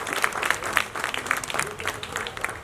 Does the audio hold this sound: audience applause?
yes